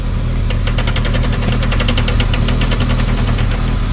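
A Powertrax locker in a vehicle differential makes a rapid, steady mechanical clicking and ratcheting as the wheel turns, loud and close over a constant engine drone.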